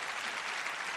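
Audience applause at a live concert of Neapolitan song, a steady, dense wash of clapping filling the whole moment with no voices on top.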